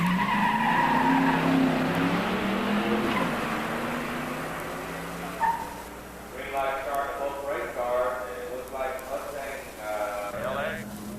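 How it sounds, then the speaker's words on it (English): A 1987 Mustang LX 302 HO five-speed and a 1977 Trans Am 400 automatic launch side by side on a drag strip, roaring engines and tire noise loud at first, then fading away as a voice talks over them. "In the near lane, Jeff Mosing in an 87 Mustang LX 302 HO 5-speed. In the far lane, David Renier in a 77 Trans Am 400 automatic."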